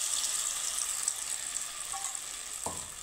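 Stuffed teasel gourd (kakrol), coated in batter, frying in a pan with a steady close sizzle of hot oil, joined near the end by a brief scrape or stir.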